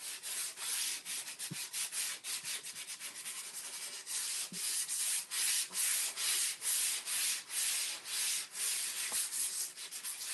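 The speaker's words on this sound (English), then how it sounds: "I would normally take this large sign out to my building or my husband's workshop and really give it a good sanding." Steady, loud abrasive rubbing of sanding on a large wooden sign, with rhythmic back-and-forth strokes continuing throughout and no talking.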